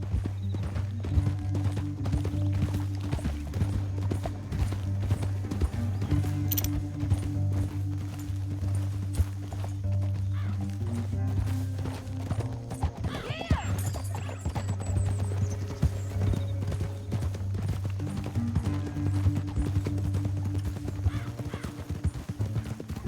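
Rhythmic hoofbeats of galloping horses pound steadily throughout in Red Dead Redemption 2, with a horse whinny partway, over a low droning musical backdrop.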